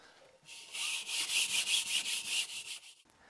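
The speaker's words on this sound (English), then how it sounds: "I use a scuff pad like this to scuff the surface so the tile would adhere properly." Scuff pad rubbed briskly across an RV wall surface to prep it for peel-and-stick tile, a close run of rapid rhythmic scrubbing strokes lasting a couple of seconds, with nothing else heard.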